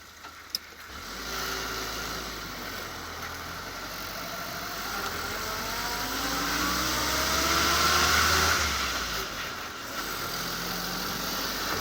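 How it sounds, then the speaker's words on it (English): Ford GPW jeep engine running while driving, a steady mid-level engine drone that rises gently and falls back with smooth revving, no voices. "you can see the Jeep runs really nicely. It's very smooth."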